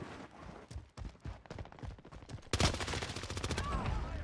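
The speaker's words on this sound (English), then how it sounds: "I just literally sniped right through his body" Rapid bursts of gunfire from a Call of Duty Warzone match, including sniper rifle shots, crackle in sharp repeated cracks that grow louder and denser partway through, with a voice talking in the background.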